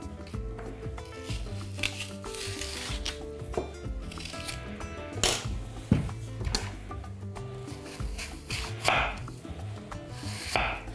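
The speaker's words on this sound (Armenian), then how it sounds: "կիսում ենք խնձորը, հեռացնում սերմնափքը և ավելորդ մասերը" A knife cuts through an apple that is being halved and cored, giving a steady run of close, crisp chopping and slicing knocks on a board with no talking.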